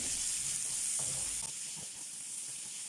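Onion sizzling in a hot pan as it is stirred for a cauliflower dish, a steady bright hiss with faint scraping, close and continuous.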